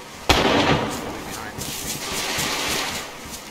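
Single sharp gunshot in the DayZ Namalsk video game, a loud crack followed by a rumbling echo that fades over a few seconds.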